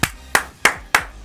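Four sharp hand claps at an even, steady pace, loud and close, each with a short snappy attack and no talking over them.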